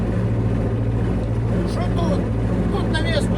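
A steady low engine drone runs throughout, with a constant rumbling hum close by and faint higher noises drifting over it.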